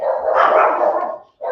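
A small pet dog barks in a loud, close, sustained yappy outburst that runs for over a second, breaks off briefly, then starts again.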